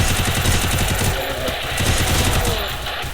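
Rapid automatic gunfire in a shooter video game, dense rattling bursts of shots close and loud throughout, with a faint voice underneath.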